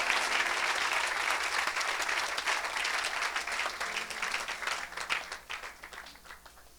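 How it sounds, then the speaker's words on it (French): A church congregation applauds at a worship service, a dense, loud wash of clapping that holds steady and then gradually thins out and fades toward the end. "Somebody clap for the Lord."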